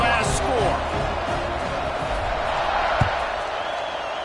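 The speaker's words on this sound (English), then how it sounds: "this crowd is buzzing after that last score" Stadium crowd buzzing in a football video game after a score, a steady loud murmur of fans under a commentator talking, with one sharp thump near the end.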